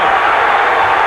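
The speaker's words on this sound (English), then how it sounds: "What a crowd." Boxing arena crowd at the Mayweather vs Chavez championship fight in San Francisco, a dense, loud wash of cheering and roaring voices, continuous and unbroken.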